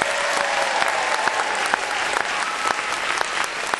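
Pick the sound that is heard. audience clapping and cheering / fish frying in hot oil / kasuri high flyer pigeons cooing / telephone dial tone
audience clapping and cheering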